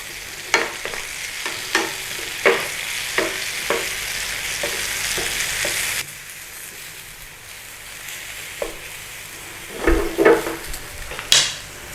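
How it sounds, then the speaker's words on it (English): Mushrooms frying in butter in a pan, with a steady close sizzle through the first half and then quieter frying broken by a few sharp knocks and scrapes of a utensil against the pan. "Nice little cooking round in there with all that butter"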